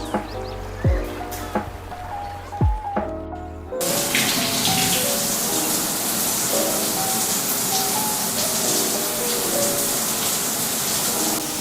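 Shower water runs in the video game Minecraft, a steady loud hiss of spray that starts abruptly after a few soft clicks and continues unbroken.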